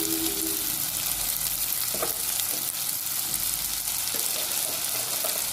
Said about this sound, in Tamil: எல்லாத்தையும் இதில் சேர்த்து வதக்கணும்